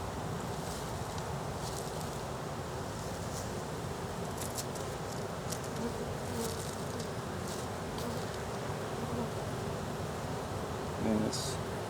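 Continuous, soft buzz of many honeybees swarming around an open hive during an inspection, with a few louder bees passing close and a voice speaking faintly.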